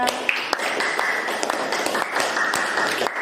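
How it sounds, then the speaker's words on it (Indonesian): Children in a classroom clap for themselves at a teacher's request, a light, uneven patter of hand claps with a few sharper individual claps, moderately loud in a small room. "beri tepuk tangan untuk kalian semua"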